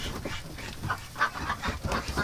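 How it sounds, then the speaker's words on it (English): A barn full of ducks, a crowd of quacks and calls rising in short bursts at close range, with rustling and shuffling underneath and no talk. "Oh, that's a ton of ducks."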